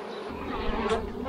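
Honeybee colony humming inside a hive in early season, a close, dense, continuous buzz with individual bees droning past, no speech.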